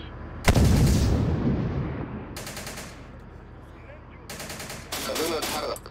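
Loud bursts of automatic gunfire in the war game Syrian Warfare, three separate rattling volleys with rumbling echoes trailing between them, close and heavy.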